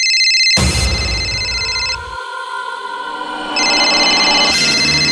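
A phone rings loud and close in electronic tones, pausing briefly and then ringing again.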